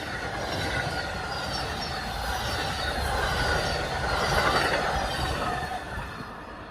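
An Amtrak Floridian train rolls steadily past a platform with a loud, continuous rumble of wheels on rail and faint squealing, building slightly and then easing off as the cars go by.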